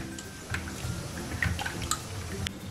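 Soft, scattered drips and small splashes of water as soaked little millet and fenugreek seeds are rinsed in a vessel, quiet and close with no voices.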